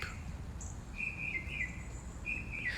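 Small birds chirp and trill in short bursts against a faint, steady outdoor hum, fairly distant.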